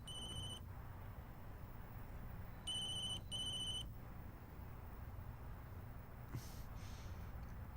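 Telephone ringing in short repeated electronic bursts, a brief ring then two more after a pause, heard fairly clearly over a low steady background hum with no talk.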